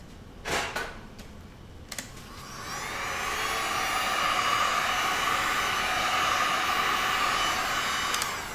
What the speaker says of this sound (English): with this heat gun, I can turn the heat all the way down so that it's just like blowing just nothing but air